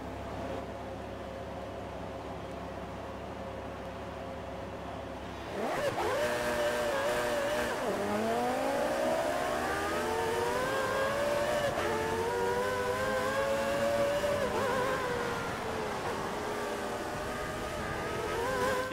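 Formula 1 race cars launch from the start on a rain-soaked Silverstone track in a racing video game, engines idling low and steady, then roaring up together in rising, overlapping revs as the pack pulls away, loud and close.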